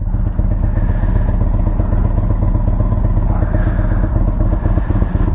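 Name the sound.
Indian Chieftain motorcycle engine idling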